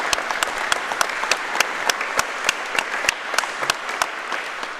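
Applause from a crowd at a wallball (handball) national finals tournament, a steady run of many hand claps with sharp individual claps standing out, fairly close and continuous throughout with no talk over it.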